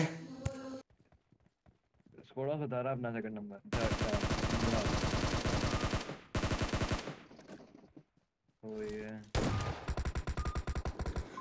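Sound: gunfire with a SCAR rifle in video game PUBG Mobile

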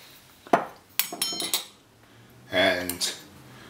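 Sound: egg yolks being added to a bowl

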